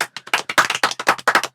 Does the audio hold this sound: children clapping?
yes